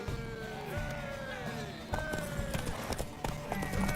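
Horse hooves pound rhythmically in The Witcher 3 during a race to a tower, rapid galloping clip-clops under game music and voices calling out.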